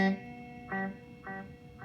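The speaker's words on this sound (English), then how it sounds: "I've got a delay before the first echo is heard, and then the other echoes play out" A single note played through a Mystery Multiplex delay effect rings out, then after a short gap repeats as a series of fading echoes at regular intervals, each quieter than the last, with no talk.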